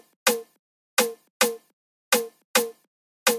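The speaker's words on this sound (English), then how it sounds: "So this is the third snare." Punchy, bouncy snare drum sample with the lows cut by EQ, struck six times in a loose rhythm, each hit crisp and short with a quick decay, played alone.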